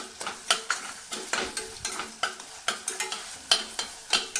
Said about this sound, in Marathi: आणि एकाच मिनिटभर आपण हे छान परतून परतून घ्यायचं